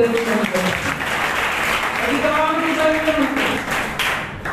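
A church congregation claps steadily and loudly throughout, the dense, even patter of many hands continuing under a voice.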